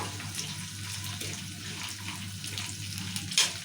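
Peanuts and chana dal frying in oil, a soft steady close sizzle and crackle, faint and heard without talk.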